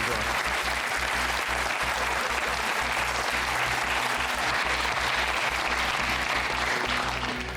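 A French television studio audience applauds loudly and continuously, a dense wash of clapping that holds at full strength over a low pulsing background, with faint talk mixed in.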